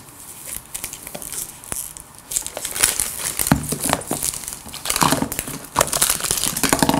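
Plastic packaging around a toy doll crinkles and crackles as it is unwrapped, giving a close, busy run of irregular crunches and rustles that swells louder toward the end.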